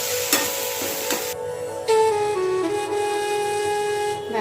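Prawns frying and being stirred in a pan with banana flower, sweet and garam masala, a steady close sizzle broken by sharp scraping stirring strokes.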